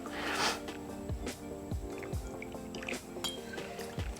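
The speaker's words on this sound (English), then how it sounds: "you're gonna take your spiced rum and build it in your glass" Spiced rum poured into a glass, a splashy liquid stream with faint glassy clinks and drips, close and fairly quiet, with no talk.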